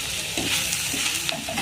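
Shallots and spice paste sauté in a pan for a Kerala-style squid thoran, a close, loud sizzle with stirring scrapes and a sharp clack near the end.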